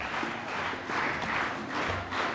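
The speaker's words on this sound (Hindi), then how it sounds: "पहले मैं ताली बजाऊंगा, वैसे आपको ताली बजानी है।" A group of school students at a Mother's Day celebration clap together in a special rhythmic pattern, repeated bursts of claps in a steady beat, loud and close, with crowd noise around them.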